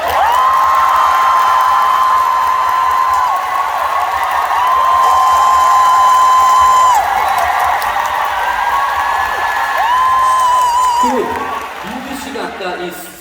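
A concert crowd cheers and applauds loudly, with high whoops and screams riding over dense clapping throughout before it tapers off at the end.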